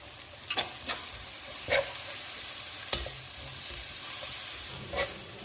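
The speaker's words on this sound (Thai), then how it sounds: "ผัดคลุกเคล้าให้เข้ากันนะคะ" Garlic and Thai roasted chili paste are stir-fried in oil in a pan, giving a steady close hiss with sharp scrapes and knocks of the utensil every second or so and no voices.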